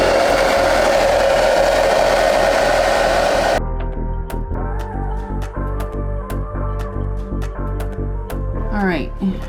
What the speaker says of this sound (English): just blow dry it down real quick